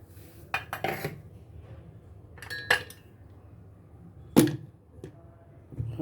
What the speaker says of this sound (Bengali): ডাকনা লাগিয়ে দিলাম এই যে আবার ডাকনা লাগিয়ে দিলাম